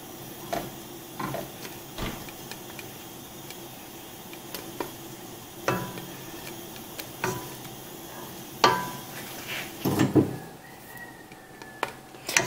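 A spoon stirs mint chocolate dessert sauce in a pot, giving scattered soft scrapes and light clinks at irregular intervals, close and quiet, with a busier cluster of knocks toward the end.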